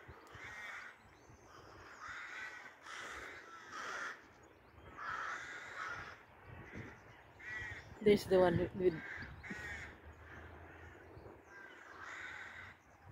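Crows nesting at Hillend in Dunfermline caw repeatedly in harsh, rhythmic calls throughout, with a louder burst near the middle, while a person talks briefly over them outdoors.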